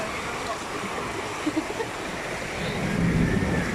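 Strong floodwater current flowing, a broad continuous rushing wash that swells louder toward the end, heard outdoors with faint wind buffeting and a person speaking softly nearby.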